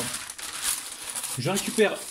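Parchment paper crinkles and rustles close by for a couple of seconds while someone speaks over it.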